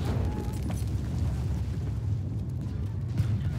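Incendiary grenade going off in Battlefield 1, a sustained low rumbling burn with dense bass roar and scattered crackle, loud and continuous without speech.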